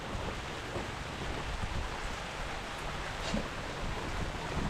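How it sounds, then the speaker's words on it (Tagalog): Heavy rain pours steadily outdoors where fiberglass work is under way, a dense, unbroken hiss and roar that stays loud and even throughout with no voices. "Kasi malakas yung ulan."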